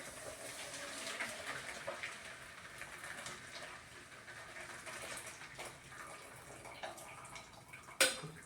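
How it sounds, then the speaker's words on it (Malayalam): Tea is strained and poured into a vessel holding two opened packets of Boost, making a steady splashing trickle that runs for several seconds, close by, ending with a sharp knock. "അതിലേക്ക് നമ്മൾ ചായ ഇങ്ങനെ ഊറ്റി ഒഴിക്കും"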